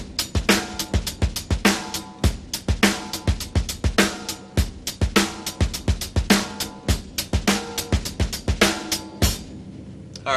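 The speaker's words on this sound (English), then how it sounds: "Now here's a beat that I like in 4/4." Drum kit playing a steady 4/4 groove, with repeating bass drum, snare and hi-hat strokes in an even looping rhythm, close and clear with no voice.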